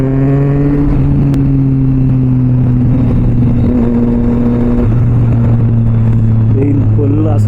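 A Triumph Street Triple 675 inline three-cylinder motorcycle with an SC Project exhaust drones loudly and steadily while riding, its engine tone rising gradually with one brief dip, under wind noise.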